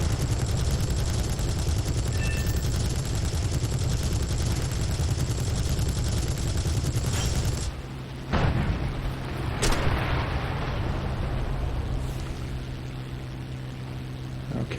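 Aircraft cannon fire in War Thunder, a dense, steady roar of rapid shots over continuous engine drone, then breaking off into scattered louder bursts and thumps against a quieter background.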